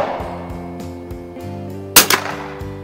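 A gunshot fired with Federal Auto Match ammunition cracks sharply about two seconds in, followed by a quick second report or echo, over a steady tonal hum and without speech.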